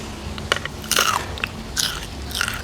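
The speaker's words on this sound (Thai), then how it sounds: "ทอดมาลองดูก่อนครับทุกคน โอ้กรอบอยู่ครับทุกคน นี่ครับ กรอบอยู่นะครับ" Crisp, loud bites into a piece of fried split fish, opened along the back and not sun-dried: a few sharp crunches spread over a couple of seconds, close up, with no talking.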